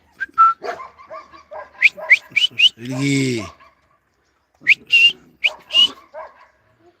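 A Jack Russell terrier gives a few short, sharp barks and yelps close by, with a longer whining cry in the middle, while a person speaks and whistles around the sounds.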